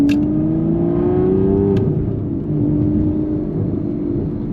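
Aston Martin V12 Vantage S exhaust burbling steadily and close, a deep continuous engine rumble with a slight pitch rise that then eases off, with no talking.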